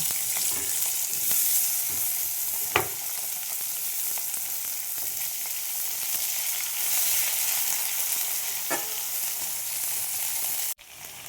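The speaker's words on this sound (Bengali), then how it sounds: "আলু পেঁয়াজ একসাথেই ভেজে নেব" Steady, crackling sizzle of potatoes and onions frying in a pan, with a couple of brief stirring clinks and a sudden cut near the end.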